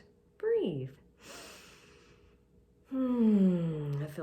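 Two audible breaths, a drawn inhale and then a longer sighing exhale, heard close and clear during a sinus acupressure routine.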